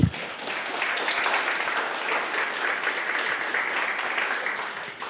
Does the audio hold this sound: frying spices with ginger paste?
no